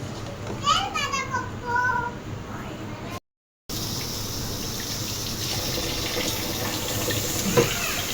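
Tap water runs steadily as fish is washed under it, close and continuous after a brief cutout, with children's voices chattering in the background early on.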